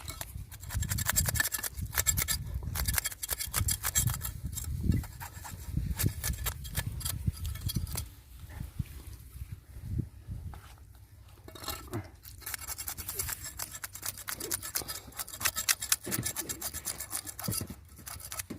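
Rapid, repeated rasping scrapes in bursts, close by, like scales being scraped off a fish, with brief pauses between strokes.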